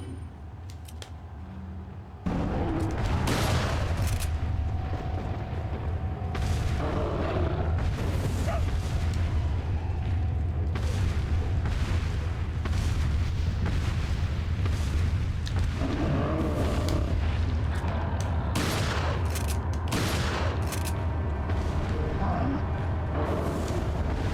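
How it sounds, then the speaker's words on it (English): A grenade blast in the video game Resident Evil 4, a loud booming burst mixed into dense, steady game noise with several sharp impacts and rumbles over about twenty seconds. "Should try throwing a grenade."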